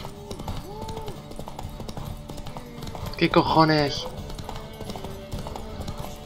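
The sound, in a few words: horse hooves clip-clopping in The Witcher 3 video game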